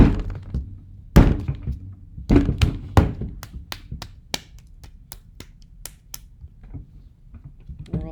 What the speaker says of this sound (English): I'm going to drop it on the table again